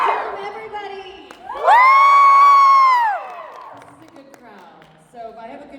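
A fan expo panel crowd roars with sustained cheers and whoops, rising sharply to a loud peak for about a second and a half before fading into scattered shouts and a brief final burst.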